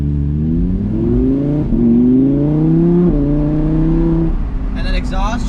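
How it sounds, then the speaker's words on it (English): The exhaust of a 2020 Audi R8 Decennium roars loud and close as the car accelerates hard, its rising engine tone climbing through several gear changes before the revs settle. A voice is faintly present near the end. "And that exhaust, just so nice to hear."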